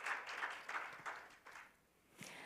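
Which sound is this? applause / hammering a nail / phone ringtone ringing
applause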